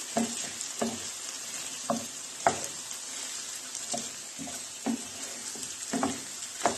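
Pickled cucumbers being stirred into frying meat and onions in a pan, a steady soft sizzle broken by repeated scraping strokes of a utensil at an irregular rhythm, close and moderately loud with no voices.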